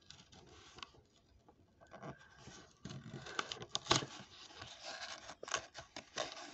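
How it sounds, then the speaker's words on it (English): A screwdriver working screws out of the packaging of a boxed 1959 Cadillac Eldorado Series 62 model car, with faint, close scratching and rasping, small clicks and rustling plastic, quiet and irregular. "I also have my screwdriver with me as well, so I can get those screws out of there"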